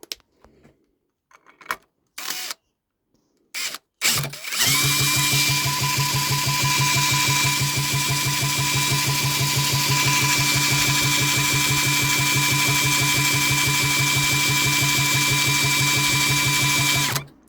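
A few short clicks and bursts come first, then a power drill whirs loudly and steadily for more than ten seconds before cutting off.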